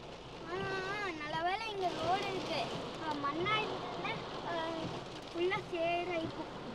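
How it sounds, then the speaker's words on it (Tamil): Rain patters steadily with a gusty rush beneath it during a cyclonic storm near Mudumalai, while a person speaks continuously in Tamil over the weather. "காற்று மழை."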